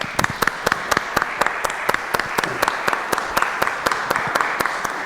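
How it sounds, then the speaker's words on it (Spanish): An audience at a book presentation gives sustained applause, with a steady stream of dense claps. One sharp, regular clap stands out near the front of the room. "para quien les pido un fuerte aplauso"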